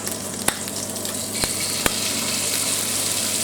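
Lamb pieces browning in batches in a hot pan give a steady, close sizzle, broken by a few sharp spitting pops.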